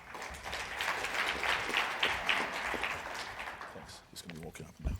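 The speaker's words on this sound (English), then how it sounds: "A round of applause for him, please" A round of applause from a conference audience at a Hanns Seidel Foundation session as a speaker is introduced: sustained clapping from many hands that swells and then thins out, ending in scattered claps and brief voices.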